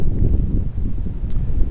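Cold wind gusts through a mountain valley below rock walls, buffeting the microphone with a loud, continuous low rumble and rustle.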